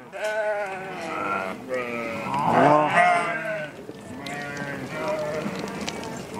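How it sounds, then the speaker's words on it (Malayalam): A herd of goats, large adults together with small kids, bleats nearby in several overlapping calls while someone talks over them. "എത്ര ആടുകളാണ്, നല്ല നല്ല നല്ല രസമുള്ള ആടുകൾ അല്ലേ."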